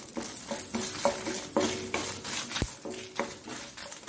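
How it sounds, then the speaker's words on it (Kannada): Ingredients for a coastal Karavali-style fish gravy fry in a pan over a low flame, giving a steady close sizzle broken by repeated scraping stirs of a utensil against the pan. "ಸ್ವಲ್ಪ ಎಲ್ಲವನ್ನು ಚೆನ್ನಾಗಿ ಸಣ್ಣ ಉರಿಯಲ್ಲಿ ಫ್ರೈ ಮಾಡ್ಕೊಳ್ಳೋಣ"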